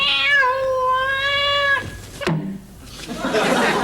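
A cat gives one long, clear, drawn-out meow up close, then a sharp thump and some rustling noise follow.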